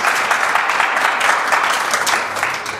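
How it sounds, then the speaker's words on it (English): An audience gives loud, steady applause, a thick wash of many hands clapping close by for a few seconds without pause. "Please give him one big applause."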